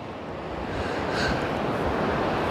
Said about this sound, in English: that wind's just gusting a little bit